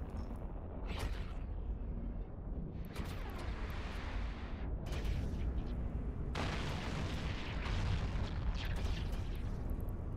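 Ship weapons fire in EVE Online, heard as repeated booming blasts and bursts over a dense rumbling background, loud and close, with one brief lull midway.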